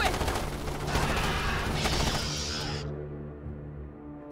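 Troopers' rifle fire in the Starship Troopers: Terran Command strategy game, a loud dense fusillade of rapid shots layered with mechanical clatter that thins out toward the end, leaving a low hum.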